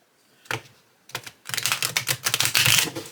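A new, slippery tarot deck is shuffled by hand, starting with a few separate taps and riffles and building into a dense, continuous run of crisp card flutters and clicks, close and fairly loud, with no talking.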